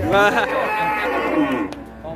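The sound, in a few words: cow mooing at a cattle market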